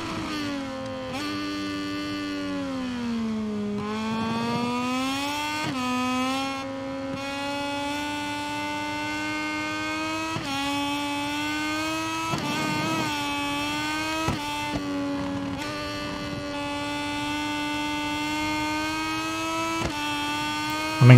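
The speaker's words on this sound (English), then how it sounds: "We both hit the wall, hitting the rev limiter there." Racing motorcycle engines in MotoGP 23 scream at high revs, hitting the rev limiter, with a sustained whine that rises and falls through gear changes and brief off-throttle dips over about twenty seconds, with no talk over it.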